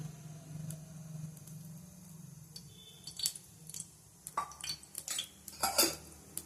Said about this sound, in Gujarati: હવે આપણે એક લોઢી મૂકી દઈશું અને લોઢીમાં આપણે તેલ મૂકશું